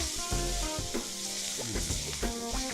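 Mushrooms browning in a hot pan for a steak sauce, with a continuous sizzle under shifting tonal, musical-sounding notes throughout.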